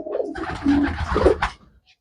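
Long-distance racing pigeons cooing nearby, a couple of low, bubbling throaty coos in quick succession before fading into near silence.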